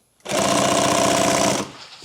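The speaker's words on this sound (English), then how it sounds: "Let's sew it from this and see what it does." A sewing machine stitches a ballistic duffle bag in one loud, fast, buzzing run of about a second and a half, starting and stopping abruptly close up, without talk.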